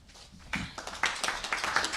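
Audience claps at a Seattle city press announcement, starting as a few scattered claps and building into steady applause from a modest crowd nearby.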